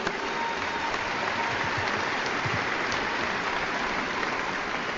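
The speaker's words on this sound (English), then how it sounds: "Please give them a round of applause." Sustained, dense applause from a large audience at a Biloxi High School graduation ceremony in Mississippi, steady and loud throughout with no break.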